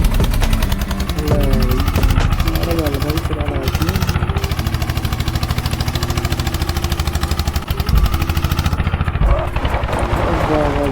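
An old tractor engine, being restored and modified, chugs loudly and steadily throughout, its rough idle continuous and close, with people talking over it.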